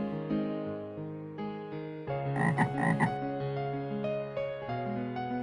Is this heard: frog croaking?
yes